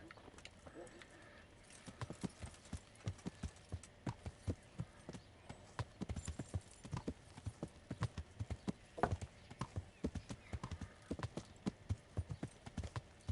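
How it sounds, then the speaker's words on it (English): Horse in the Kingdom Come: Deliverance video game, its hooves clip-clopping in an irregular trotting rhythm that grows closer and louder, with a brief whinny and a person talking over it. "Where's my horse? I could hear it."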